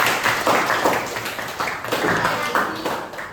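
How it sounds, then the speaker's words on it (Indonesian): A classroom group claps for one another during a lesson, in bursts of moderate clapping with voices mixed in. "Beri tepuk tangan buat kalian masing-masing."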